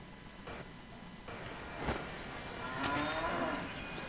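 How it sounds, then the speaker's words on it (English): Medieval Scottish village in The Bard's Tale (2004) game: a cow gives a low, drawn-out moo as it is tipped over, heard alone over a soft ambient background. "Yes, he did just tip a cow."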